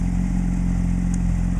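A 2003 Honda CBR600RR sport bike engine runs steadily up close, a loud, continuous idle rumble with no change in pitch or rhythm and no talking.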